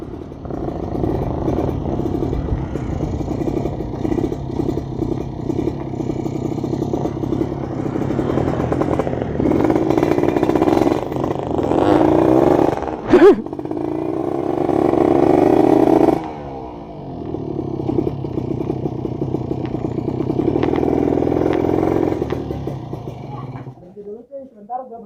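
A Kawasaki Ninja RR 150 motorcycle with an aftermarket Aho Motorsport exhaust runs close by, its engine and exhaust droning steadily with rising revs and a sharp blip midway before cutting off at the end.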